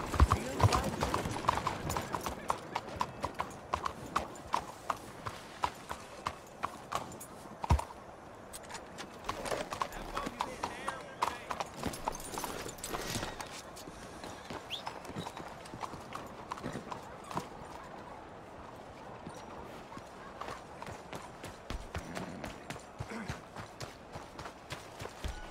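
Horse hooves clip-clop steadily in a rhythmic walking gait, close and fairly loud, with a faint whinny and people talking intermittently over the hoofbeats.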